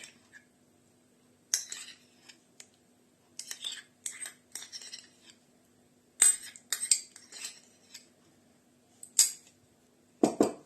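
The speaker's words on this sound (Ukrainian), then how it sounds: "Перемішуємо перемішали" A spoon clinks and scrapes against a bowl while kiwi salad is stirred together with homemade mayonnaise, in quick irregular bursts separated by short quiet gaps, close and fairly soft.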